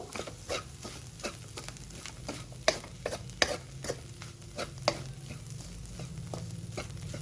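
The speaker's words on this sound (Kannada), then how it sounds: "ಈಗ ಸ್ವಲ್ಪ ಅರಿಶಿಣ ಹಾಕ್ತಾ ಇದ್ದೀನಿ ರುಚಿಗೆ ತಕ್ಕಷ್ಟು ಉಪ್ಪು ಚೆನ್ನಾಗಿ ಮಿಕ್ಸ್ ಮಾಡ್ಕೊಳ್ಬೇಕು" A spatula stirs turmeric and salt through a drumstick-leaf and egg fry in a pan, with a steady low sizzle and repeated scraping clicks of irregular rhythm, close and alone without speech.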